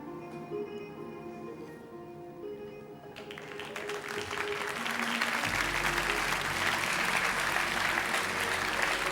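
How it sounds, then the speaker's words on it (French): A TV game-show studio audience starts clapping after a bank offer, the applause building from quiet background tones into a loud, dense, sustained ovation. "Vous faites bien applaudir"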